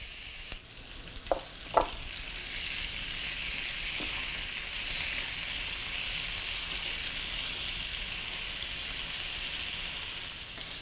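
Ingredients frying in a pan until golden, a steady close hiss and sizzle with a few utensil clinks and stirring sounds near the start, no talk.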